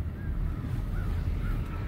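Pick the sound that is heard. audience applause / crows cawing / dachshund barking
crows cawing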